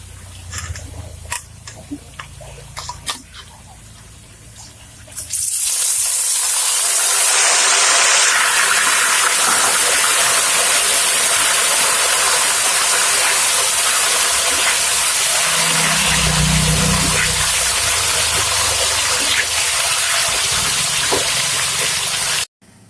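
Loud, steady sizzling of breadfruit chips frying in a wok begins after a few quiet seconds and continues without a break, with occasional bubbling crackle, then cuts off abruptly.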